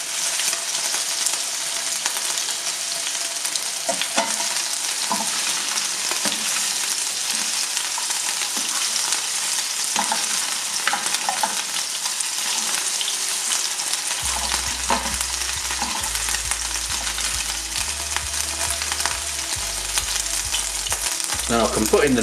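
Lamb chunks browning in a hot pan for a midweek lamb curry, with a continuous loud sizzle and occasional stirring scrapes, close up, and a low rumble joining in partway through.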